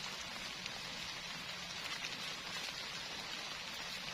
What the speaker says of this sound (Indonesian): Ya, nambah terus hujannya